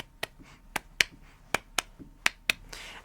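One person claps alone to a song, sharp single claps landing in a steady, slightly uneven rhythm, close and crisp over a quiet background.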